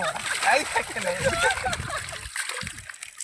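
Children splash and slosh in the water of a reservoir while playing, with continuous close splashing mixed with excited voices talking throughout.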